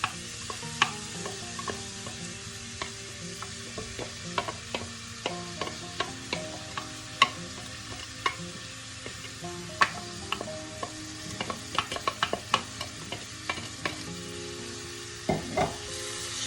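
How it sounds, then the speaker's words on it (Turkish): Onion sizzles steadily in a pan of butter, with a soft crackling frying bed and scattered clicks and scrapes of stirring, no speech. "Şimdi içerisine doğradığım bir tane soğanı ilave ediyorum."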